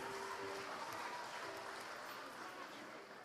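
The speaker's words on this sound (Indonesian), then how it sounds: "tepuk tangan yang meriah" Lively church congregation applause at an anniversary celebration, a steady wash of clapping from a crowd that holds for a few seconds and tapers slightly at the end.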